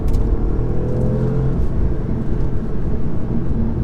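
A 2019 Audi S3 saloon driving on back roads, a loud steady engine rumble and road roar heard from inside the cabin, continuous without talk.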